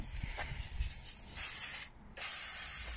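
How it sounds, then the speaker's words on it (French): WD-40 sprayed over the engine-bay plastics of a BMW 328i E36 with an M52B28 engine gives faint, close hissing bursts with short pauses and a brief silent gap between sprays. "Et ben en fait, prenez du WD-40."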